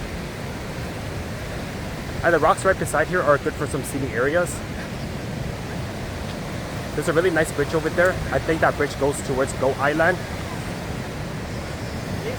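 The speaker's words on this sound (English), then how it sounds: "as I walk this way, the waves are getting harder" Rushing water at Niagara Falls State Park, a constant broadband roar like surf that runs steadily under a voice talking in two stretches.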